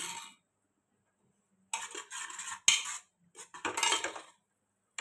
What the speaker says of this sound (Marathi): हा मसाला सगळा मी भाजून घेते आता.